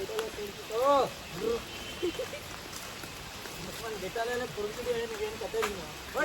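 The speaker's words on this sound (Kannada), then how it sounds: "ಮಳೆ ಬರುತ್ತಿದೆ" Steady rain hisses across the whole stretch near a waterfall on a forest trail, a broad wash of drops under several people chatting and calling out close by.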